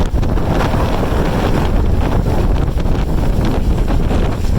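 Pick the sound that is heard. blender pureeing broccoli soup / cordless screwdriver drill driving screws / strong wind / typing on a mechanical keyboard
strong wind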